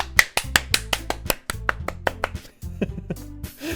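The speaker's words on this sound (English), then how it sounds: "I'm the first to start applauding." Scattered, uneven claps and taps with a synthetic, game-like quality in the video game Doki Doki Literature Club!, building into a short burst of applause over a bed of music.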